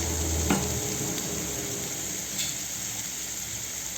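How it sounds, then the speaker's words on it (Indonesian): Steady sizzle of a stir-fry in a pan while aromatics for a fried tofu street snack are sautéed, a continuous hiss with a faint clink near the start, with no talking. "Lalu kita tumis seperti ini hingga baunya harum ya"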